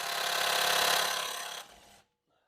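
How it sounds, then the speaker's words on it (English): A small impact gun buzzes loudly and steadily for about two seconds while trying to back Phillips screws out of a 2008 Honda Pilot brake rotor, dropping in level near the end before cutting off into silence. "I've got a little impact gun here. I'm going to give this a try and see if I can't get these screws out with this."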